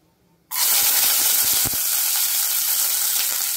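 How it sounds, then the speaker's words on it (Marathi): Garlic dropped into about half a spoon of hot oil for a Malvani clam masala bursts into a loud, steady sizzle that starts abruptly and holds close up, with no talk. "थोडं म्हणजे अगदी अर्धा चमचा एवढंसं तेल घालायचं आहे आणि त्यात आपल्याला घालायचं आहे लसूण"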